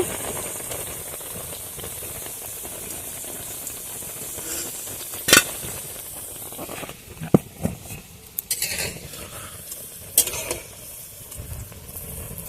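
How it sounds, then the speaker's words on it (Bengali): Cabbage pakoras deep-frying in oil, a continuous hissing bubble with occasional sharp clicks and knocks from turning them over near the end. "উল্টে পাল্টে পকোড়াগুলোকে একটু লাল লাল করে বাদামি বাদামি করে ভেজে নিতে হবে"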